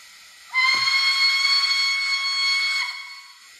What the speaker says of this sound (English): F3 is a long whistle.